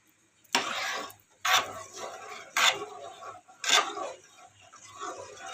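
Kadhi batter thinned with water and mixed by hand in a pot, giving four sharp clinking, scraping strokes about a second apart, each trailing into a softer swish.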